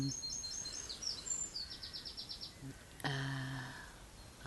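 Birds sing in the early morning around sunrise, with bursts of quick, high chirps and trills repeating in short runs, moderately near over a soft background, with a brief sharper call near the end.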